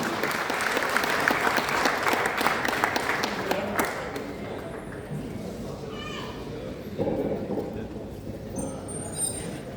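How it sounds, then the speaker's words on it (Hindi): Audience at a Hindi comic poetry gathering in Jamshedpur applauds a poet, a dense burst of clapping that fades after a few seconds into murmuring crowd noise and talk. "जोरदार तालियों के साथ एक बार आमंत्रित कीजिए"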